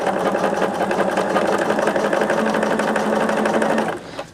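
A sewing machine runs at a fast, steady whir while stitching quilt blocks together, close by and continuous for about four seconds, then slows and stops at the end.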